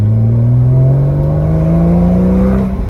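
A Porsche 981 fitted with a Becker S type exhaust runs with a deep, loud, close engine drone whose pitch climbs slowly and smoothly as the revs build over a few seconds.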